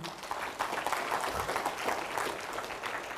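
A church congregation clapping hands together during a sermon, a dense, continuous burst of applause from many people that stays even in loudness throughout.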